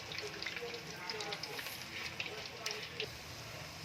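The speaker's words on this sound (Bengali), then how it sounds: "আর একটু ফ্রাই করে নেবো, গোল্ডেন ব্রাউন কালার নিয়ে আসবো।" Cauliflower florets frying in hot oil for gobi manchurian, a steady crackling sizzle with scattered pops running the whole time under a voice.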